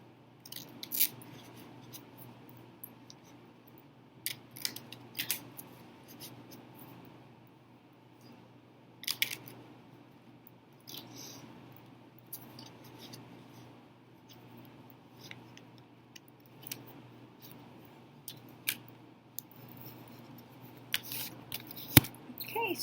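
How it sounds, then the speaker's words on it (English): Tarot cards being shuffled, with faint, sparse crisp riffles and card taps scattered through a quiet room, close and soft, with no talking. "Get these all ruffled, shuffled up."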